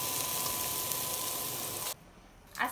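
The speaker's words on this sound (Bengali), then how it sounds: "এই যে মশলাটা কষাই নেওয়া হইতেছে" Spice paste frying in a pan gives a steady, close sizzle that stops abruptly partway through, followed by a short quiet gap and a brief final rustle.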